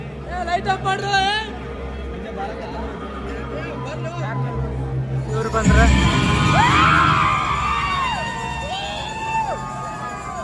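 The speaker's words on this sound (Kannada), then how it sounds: "ಕ್ರೌಡ್ ನೋಡ್ರಿ." An audience crowd inside a cinema showing Kantara Chapter 1 swells into loud hubbub and cheering after a sharp bang, with nearby voices talking over it.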